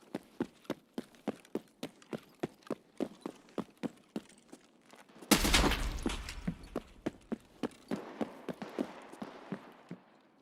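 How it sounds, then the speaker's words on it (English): Lever-action rifle gunfire in a video game: a long, steady run of sharp, evenly spaced shots close by, broken midway by a loud broadband burst, with no talk over it. "Yeah, I hear the lever action."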